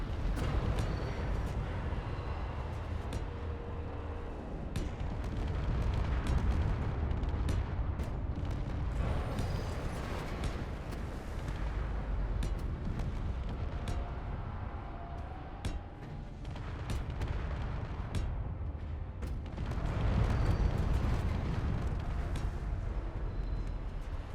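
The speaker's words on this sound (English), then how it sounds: "I've created a blueprint of one of my gravity missiles, so I'm just going to paste them in and watch the fireworks happen." Gravity missiles exploding against a ship in the space game Space Engineers, a dense, continuous roar of booms and blasts with repeated sharp bursts, loud throughout with no talk.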